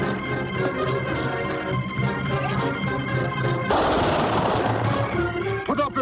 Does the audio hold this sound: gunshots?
yes